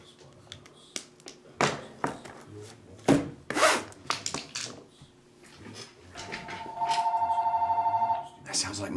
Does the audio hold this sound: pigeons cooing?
no